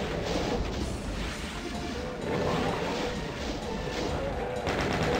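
Gunfire against shotgunners in Voxel Doom 2: loud, dense, sustained shooting and blasts with almost no pause, close and heavy throughout.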